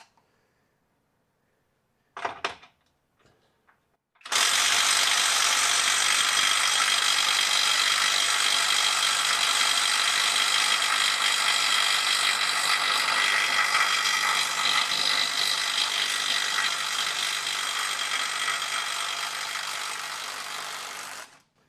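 A counterfeit Milwaukee impact wrench hammers at a stuck bolt, opening with a couple of short bursts and then a loud continuous rattling drive for about seventeen seconds before it cuts off.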